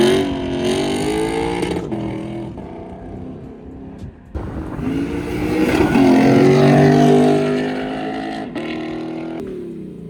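Ford Shelby GT500 with a muffler delete and resonator delete, its exhaust rumbling and barking loudly close by through several rev swells, rising to a sustained roar midway before settling back.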